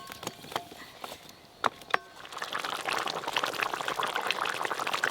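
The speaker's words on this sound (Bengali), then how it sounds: "এই যে ভাজা মাছগুলো দিয়ে দিলাম, এই ঝোলের মধ্যে ডুবিয়ে একটু ভালো করে ফুটিয়ে নিলেই রান্না হয়ে যাবে।" Fried tilapia pieces go into a spicy gravy, with a few sharp knocks and a splash, then a steady bubbling simmer builds up close by with no voices.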